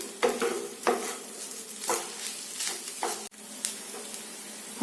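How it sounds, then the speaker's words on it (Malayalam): Egg rice being stirred in a frying pan over a medium flame, with a soft continuous sizzle and a spatula scraping the pan in slow, repeated strokes. "റൈസ് ഇളക്കി കൊടുക്കും"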